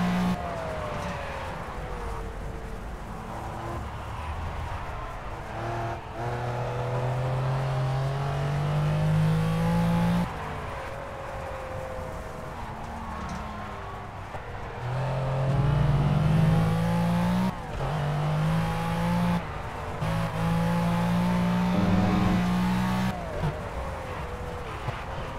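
Race car engine in Project Cars, a sim racing game, revving hard and climbing through gears in repeated rising sweeps, shifting and dropping back before surging again, loud and continuous throughout.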